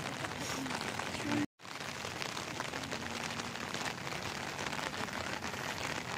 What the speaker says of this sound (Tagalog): Grabe na, ulan lang.